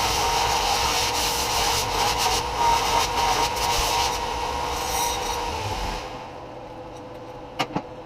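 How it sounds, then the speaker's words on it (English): Inside of metal tubes being deburred before welding, a continuous rasping scrape of a tool against metal that stops about three-quarters through, followed by quiet and two sharp clicks. "Always a good idea to deburr the inside of your tubes before you weld them together"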